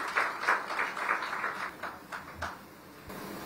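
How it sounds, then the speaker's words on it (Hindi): An audience at a News 18 stage event in Uttar Pradesh claps to welcome a speaker on stage, a steady patter of applause that is fairly faint and fades out after a few seconds. "मंच पर जोरदार तालियों के साथ स्वागत करिए"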